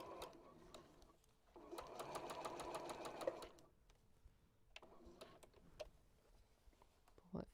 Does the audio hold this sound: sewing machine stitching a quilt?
yes